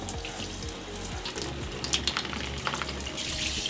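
Water runs steadily from a tap into a sink while a dirty prosthetic Kevlar sock is washed, a continuous close gushing with splashy bursts as the fabric is worked under the stream.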